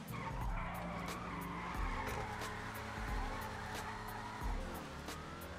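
A big-engine car in the video game GTA 5 Online drives with a steady engine drone while its tires squeal and skid repeatedly, a constant, fairly faint mix.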